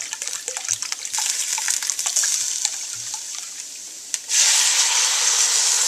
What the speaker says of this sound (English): So we're just going to deglaze with some red wine.